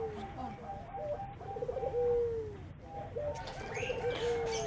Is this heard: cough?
no